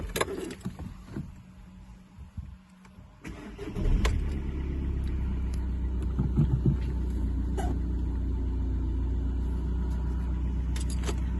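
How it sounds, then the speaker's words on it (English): A 2015 SEAT Leon starts with a newly programmed spare key: a few clicks and faint handling noises, then the engine cranks and catches at about four seconds and settles into a steady, close idle. "And we'll start the car with ours."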